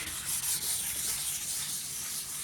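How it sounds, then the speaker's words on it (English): Sandpaper lightly rubbing steadily across old varnished wood on a chess set, a close, continuous scratchy hiss with slight rhythmic strokes. "look at this light sanding"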